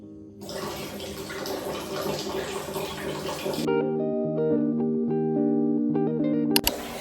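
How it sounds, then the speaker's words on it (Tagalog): Tap water gushes into a container being filled for bathing, a loud rushing splash that gives way to a ringing, rising gurgle as the container fills. "Magpapapuno muna ako ng tubig dahil walang tubig."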